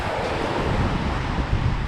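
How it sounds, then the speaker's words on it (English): Wind and waves at sea aboard a sailboat on the open ocean off Montauk, sailing at speed in picked-up weather. A steady, loud wash of wind and surging water with a low rumble and no pauses. "At least we have wind and we can sail at a good speed."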